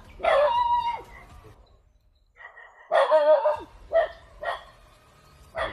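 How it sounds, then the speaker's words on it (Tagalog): Several dogs bark in bursts, one loud nearby volley followed by scattered single barks, with quieter gaps between and a rooster-like call mixed in. "Pagkaraming aso po dito sa paligid mga tol."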